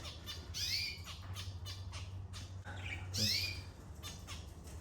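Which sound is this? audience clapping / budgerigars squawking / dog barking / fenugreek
budgerigars squawking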